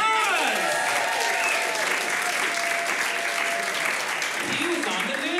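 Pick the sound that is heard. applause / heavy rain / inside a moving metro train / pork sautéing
applause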